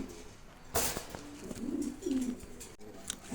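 Pigeons kept in a loft coo in low, throaty bursts, one clear call rising near the middle and others softer around it, with a sharp knock early on and light rustling.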